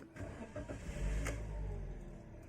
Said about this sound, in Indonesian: Kita start hingga mesin hidup.